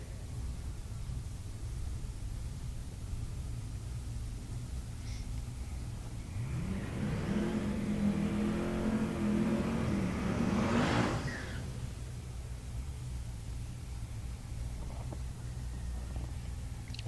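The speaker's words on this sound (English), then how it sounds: "Twin turbos in the right lane, positive displacement blower in the left lane." Drag race cars launch head to head at Tulsa Raceway Park, one twin-turbo and one with a positive displacement blower. Their roar rises from a distant background hum, peaks loudly for several seconds, then fades away.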